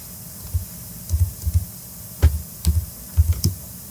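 Keys on a computer keyboard are tapped in short, sparse clusters, with soft, close clicks and small pauses between bursts, over a faint steady hum.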